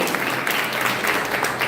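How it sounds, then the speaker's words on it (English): Audience at a national essay competition award ceremony breaking into sustained applause, a dense, even wash of many hands clapping throughout, close and fairly loud. "Another big round of applause."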